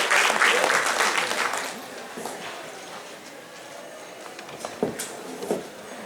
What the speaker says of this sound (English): please welcome with a loud round of applause Mr. Deep Kalra